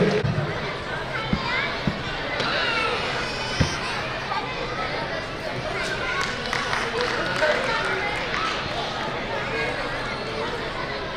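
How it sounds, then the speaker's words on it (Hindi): At a Meena community get-together in Kutch, the crowd keeps applauding the children as scattered, sharper claps poke through a broad bed of clapping and crowd chatter that slowly thins out. "एक बार पुनः इन सभी बच्चों के लिए जोरदार तालियां"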